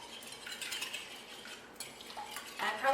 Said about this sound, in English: I'm just going to beat them a little bit